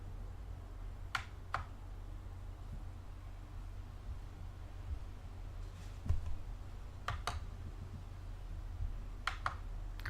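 Keystrokes on a computer keyboard enter a terminal command, faint separate clicks in small clusters spread over about ten seconds against a low steady hum. No voices are heard.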